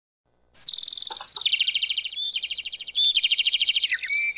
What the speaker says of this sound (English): You will now hear bird call number 2.